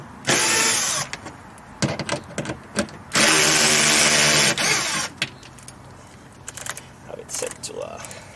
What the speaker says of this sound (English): And I've got myself my impact. Let me tell you, this saves time.